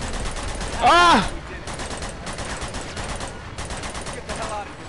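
Gunfire in Uncharted: Among Thieves: scattered shots and rattling bursts run through the clip, with a man's sharp vocal exclamation over them early on.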